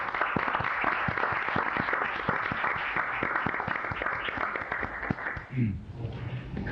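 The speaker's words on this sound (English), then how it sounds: "Let's join in the applause." An audience at a 1992 Sacramento cable television commission meeting applauds, a continuous crackle of many hands clapping through the room for several seconds before it fades out and a voice begins speaking.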